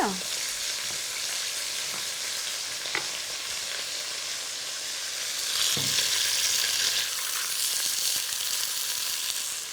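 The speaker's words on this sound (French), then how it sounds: "Je vais faire revenir mon rôti sur toutes les faces dans une cocotte que j'ai déjà fait chauffer" A roast browning in a preheated casserole pot, a loud continuous sizzle close up that swells partway through, with faint stirring scrapes and no talking.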